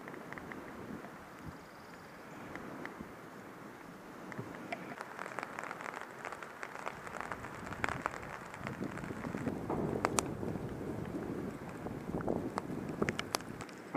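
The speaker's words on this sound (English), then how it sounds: "the rain's starting to pick up a little bit" Rain patters at a campsite beside Lake Michigan in the Nordhouse Dunes, a steady hiss under wind with scattered sharper drops on nearby surfaces, building gradually louder with no voices.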